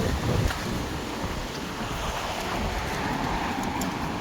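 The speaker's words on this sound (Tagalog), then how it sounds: "Malakas ang hangin eh." Strong, cold wind on a bridge in Canada roars and buffets steadily against the microphone, a continuous loud rushing with no voices.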